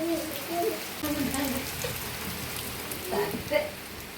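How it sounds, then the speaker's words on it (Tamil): Heavy rain pours down in a steady hiss of drops hitting surfaces, holding at the same level throughout while a person talks over it. "மழையை பார்த்தீங்களா சரியான மழை காலையில இருந்து"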